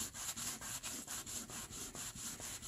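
Rhythmic rubbing strokes, about a dozen in quick back-and-forth succession, a soft close-up swishing of a hand or cloth wiping a newspaper-made cover.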